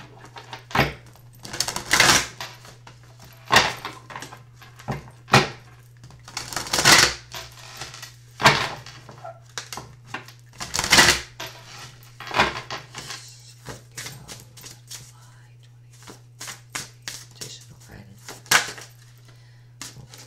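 Magical Times Empowerment oracle cards by Jody Bergsma being shuffled and handled, giving irregular crisp slaps and riffles in close bursts over a steady low hum, with a voice talking at times.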